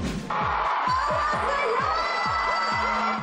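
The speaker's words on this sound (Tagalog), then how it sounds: "Napuno ng hiyawan ang sold-out at first-ever fan meeting sa bansa ni South Korean actress Kim Ji-won." A crowd at a sold-out fan meeting for a South Korean actress screams and cheers loudly, with high shrieking voices layered over repeated rhythmic thumps and a sustained roar.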